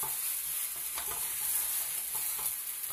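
Shrimp frying over low heat in a pan, a steady close sizzle with soft scraping as they are gently stirred, no voices.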